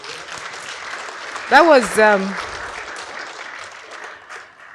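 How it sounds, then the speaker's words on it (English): An audience claps steadily at a university innovation week and industry summit, a continuous even patter that runs under a voice speaking briefly over it. "I thought you needed to clap more"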